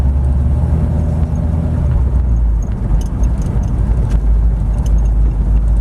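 A 1932 Ford Cabriolet resto rod idles while its engine warms from cold, a steady low rumble heard up close and unbroken, with no voices.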